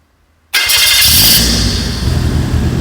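A Daihatsu Xenia with the K3-VE engine cranks and starts abruptly after silence, then settles into a loud, steady close-up idle roar, heard during troubleshooting of its engine management system.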